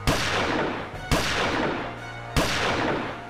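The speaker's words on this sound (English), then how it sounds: "After the first gunshot is fired, Ghost ducks and hides behind the car." Three loud gunshots from a gun fired in quick succession, each a sharp crack with a reverberant tail that rings out before the next shot, with no voices.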